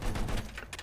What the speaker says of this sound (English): That field gun shooting at you, mate?